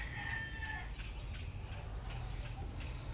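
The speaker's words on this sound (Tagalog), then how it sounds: "So may dalawang ibon to guys." Two birds at a farm on hotel grounds call with repeated clucking, crowing-like sounds close by, heard over a steady background hum.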